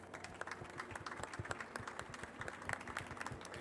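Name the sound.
audience applause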